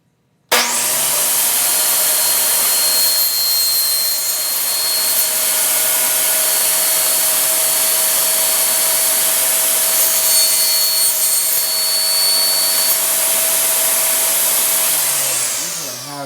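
A power saw cuts out the middle section of a wooden board for a DIY height ruler, a loud steady whine running continuously for about fifteen seconds before cutting off, with no talking.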